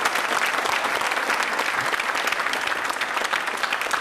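A studio audience at a televised Hindi quiz programme applauds a 12-year-old girl contestant, with dense, steady clapping that stays loud and even throughout.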